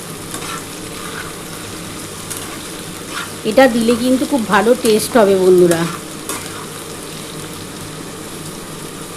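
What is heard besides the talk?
onion and chopped garlic frying in pan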